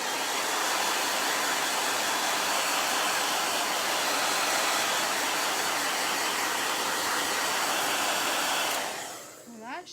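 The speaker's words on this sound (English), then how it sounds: "It doesn't take the paste very long to dry, especially with a hair dryer or a heat tool." A hair dryer drying chalk paste blows with a loud, steady whir for several seconds, then switches off and winds down.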